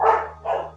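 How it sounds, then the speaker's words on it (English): Two loud barks, a sharp one followed by a second after a short pause, over a steady low hum. "I can hear the hellhounds barking to that loudly"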